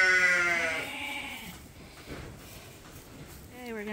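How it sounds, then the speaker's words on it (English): Ewes and lambs bleating in a pen on a sheep farm, several overlapping calls loud and close at the start, fading into quieter shuffling before another bleat near the end, with people talking. "Only now when they're leaving did the ewes notice that there's lambs here"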